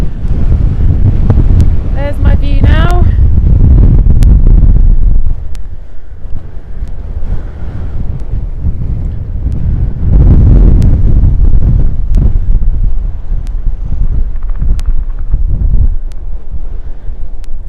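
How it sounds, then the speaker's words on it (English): Strong wind buffets the microphone on an open Dartmoor hillside during a solo wild camp, a loud continuous roar with gusting surges, while a person talks briefly over it. "it's really windy"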